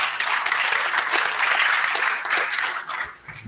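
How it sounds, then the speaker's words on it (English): Applause from a conference audience for a student engagement panel, a loud, sustained wash of clapping with no talk that tapers off near the end. "Give yourself and the panel a round of applause."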